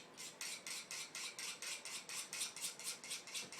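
Knife blade drawn repeatedly through a Sharp-N-Spark sharpener, giving about fifteen steady, evenly spaced high-pitched scraping ticks at close range with no talking.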